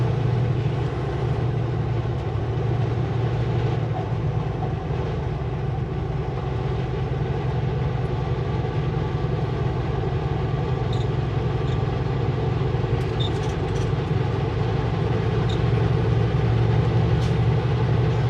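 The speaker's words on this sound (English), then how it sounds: "this train is containers, double stacked containers" A freight train of double-stacked containers rolls past in snowy mountain country, a steady, loud, continuous rumble and rattle with no break, holding at close range throughout.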